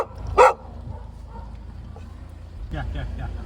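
A dog gives one sharp, loud bark, and after a pause a few quieter yips and barks follow, with people talking nearby.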